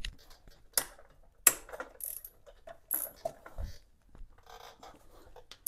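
Bolts are loosened on a Kawasaki KL 250 engine during teardown, with sharp ratcheting clicks in short bursts and metallic taps, close and fairly quiet.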